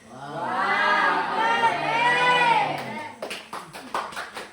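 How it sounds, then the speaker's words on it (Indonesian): A classroom of students gives a loud, sustained group shout of approval for about three seconds, then breaks into scattered applause and claps that trail off. "Kita beri aplaus semuanya, kita katakan wow."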